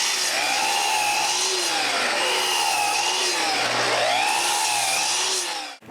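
A power saw cuts wooden stiles for a bookcase, a loud continuous whining drone with wavering pitch that swells and dips through several passes before cutting off abruptly at the end.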